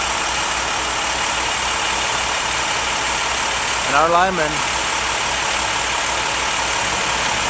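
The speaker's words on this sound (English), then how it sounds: "are going to grab that pole with this digger truck right here" A utility digger truck, used by linemen to lift a power pole, idles nearby as a steady low engine hum throughout while someone talks briefly midway.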